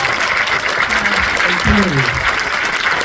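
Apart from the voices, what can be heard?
audience applause at film Q&A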